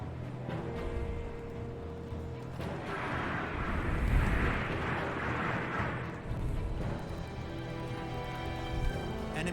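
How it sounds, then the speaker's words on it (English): A deep rumbling blast swells and fades as proton torpedoes launch at an enemy ship in Star Ocean The Divine Force, a sustained roaring surge over a low engine hum, with no talk over it. "Firing proton torpedoes."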